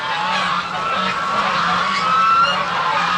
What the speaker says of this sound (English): Okay, that's some happy birds.